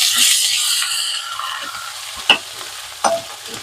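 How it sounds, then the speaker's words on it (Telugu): Onions frying with ginger garlic paste and turmeric in a pan for a cluster beans and egg curry, a steady close sizzle with a couple of sharp clinks of a spoon stirring against the pan. "అల్లం వెల్లుల్లి పచ్చివాసన పోయేంత వరకు ఫ్రై చేసుకోవాలి"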